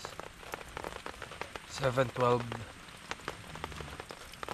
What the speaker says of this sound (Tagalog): Umuulan pa rin ngayon